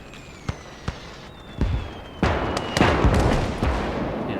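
Artillery fire in a World War II video game set at the Battle of the Bulge, heard as a few sharp booms early, then denser overlapping blasts and rumbling explosions that keep rolling on, fairly loud.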